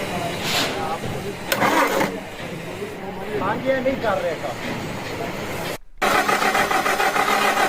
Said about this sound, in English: he's left all the injector pipes off and they're cranking it over